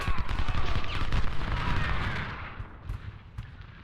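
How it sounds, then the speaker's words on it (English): Distant cannon fire and musketry rumble from battle in the Civil War game Ultimate General, a dense continuous roar of booms and crackling shots that thins out toward the end, with no speech. "That is some artillery. I wonder if it'll get a shot off on us."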